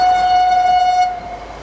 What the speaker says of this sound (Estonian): Mõnel korral lasi ka rong vilet.